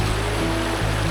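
A river running strongly past a campsite at Marilaque in Tanay, Rizal, giving a steady, close, continuous rush of flowing water with low rumble and no pauses.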